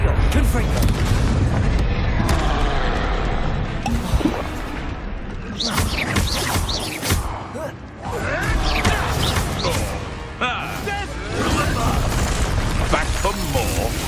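Confringo fire spells in Hogwarts Legacy go off as a run of loud booming blasts and crashes across dense game combat noise, with a voice talking over the fight.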